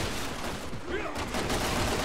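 Gunfire in the video game Resident Evil 6, rapid bursts of shots packed together over a couple of seconds, fairly quiet and blended into a dense game soundscape.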